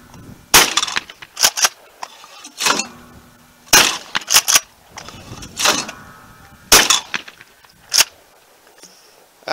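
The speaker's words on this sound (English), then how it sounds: "Let's do some shooting." A Benelli Super Nova pump-action shotgun in Realtree Max 5 camo with a 3.5-inch chamber fires at an outdoor range, sharp loud blasts spaced a second or more apart with quicker mechanical clacks in between, and no talking.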